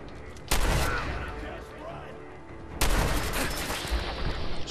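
Gunfire in Fallout 4 during a raid on the Corvega Assembly Plant: two loud, sharp shot bursts about two seconds apart, each trailing into a rumbling decay over a busy combat background.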